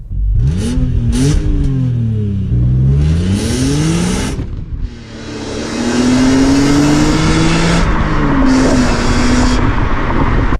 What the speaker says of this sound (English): But this car, the sound, it's got depth, it's got character.